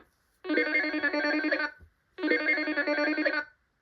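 Telephone ringing in the 1991 French reading video game Ordi Nathan after a number is dialed: two long, bright electronic ring bursts separated by a short gap, clear and alone.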